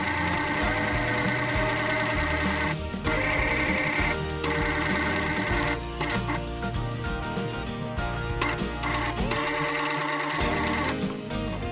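A sewing machine stitches darts on a dress bodice, running in steady whirring bursts with brief pauses between seams. The mechanical hum is close and continuous over about twelve seconds, with no talking.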